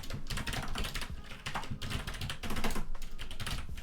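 Close, rapid typing on a computer keyboard while writing code in Roblox Studio, a steady stream of crisp key clicks with brief pauses between bursts, with no talk.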